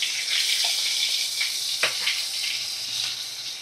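Onion hits hot oil with panch phoron in a home kitchen pan, giving a steady, close hiss of sizzling frying that runs throughout with faint crackles and no talk.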